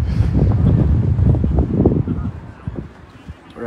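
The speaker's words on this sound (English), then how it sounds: "if you can hear me through the wind" Strong wind buffeting outdoors during a bowls match, a loud continuous low rumble with gusts that eases toward the end, while someone talks through it.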